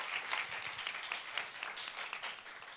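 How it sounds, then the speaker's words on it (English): A student senate audience gives a short round of applause in a meeting room, many hands clapping at once in a steady patter that stays fairly even and fades slightly toward the end. "feel free to clap for her again"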